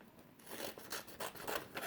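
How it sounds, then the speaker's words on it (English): Quiet snipping of scissors through paper, a few soft crisp cuts in an uneven rhythm, close by with no voices. "I'm going to cut right on this line here with my scissors."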